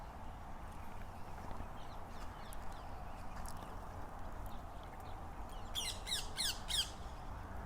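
A bird squawks outdoors in a short burst of several harsh calls toward the end, heard over a quiet, steady background murmur.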